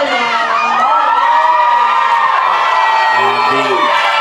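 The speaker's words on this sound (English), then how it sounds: "And the crowd obliges as the PA announces the goal scorer, Taylah HENNEKAM." A crowd at a girls' under-13 football grand final in Victoria cheers and shouts loudly and continuously, with high young voices whooping throughout, close and dense over a few seconds.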